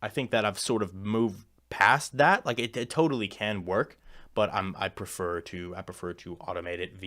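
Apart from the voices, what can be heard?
None of the usual background noises is heard.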